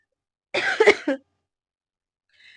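A single short burst of coughing, close and clear, followed by silence and a faint brief sound at the end.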